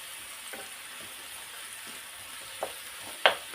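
Fat sizzling in a pot for a Moroccan chicken tagine with vegetables, a soft, steady frying hiss with a few sharp pops and crackles near the end, faint and close with no talk.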